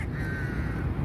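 A six-month-old pet crow caws during a training session, a single drawn-out, fairly close call with no talking.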